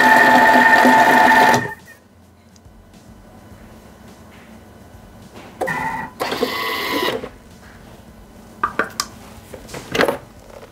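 A Thermomix whipping chilled cream at speed 3.5 gives a steady loud motor whir for the first second and a half. Quieter stretches follow, broken by short clattering bursts and knocks.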